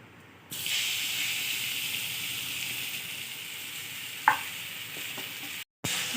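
Raw mango pieces sizzle and fry in hot ghee with cloves and spices in a pan, a steady close hiss with a brief clatter of stirring partway through.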